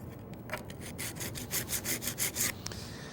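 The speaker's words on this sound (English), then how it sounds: "existing burr off each edge of the cabinet scraper with a couple of quick strokes" Quick file strokes across the edge of a steel cabinet scraper, removing the burr in a workshop; a run of about eight close, rasping scrapes, fairly loud and rhythmic, with no talk.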